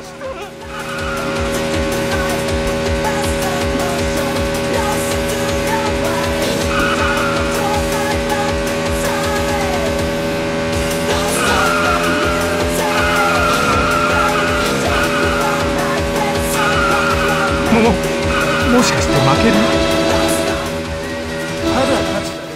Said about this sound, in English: the whole idea of the game is to drift around the mountain circuit